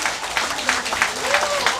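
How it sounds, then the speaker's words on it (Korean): Audience at a lecture breaks into brief applause, a loose patter of claps under a voice that keeps talking across it. "박수 한번 쳐주십시오."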